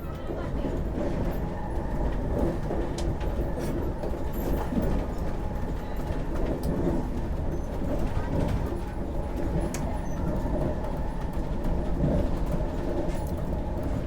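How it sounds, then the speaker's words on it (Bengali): The New Delhi–Howrah Rajdhani Express rumbles steadily at about 127 km/h with a constant roar and rhythmic rattling, heard from inside a moving first AC carriage. "এখনই কিন্তু দেখতে পাচ্ছি এই ট্রেন একশো সাতাশ কিলোমিটার পার আওয়ার কিন্তু স্পিড তুলে নিয়েছে"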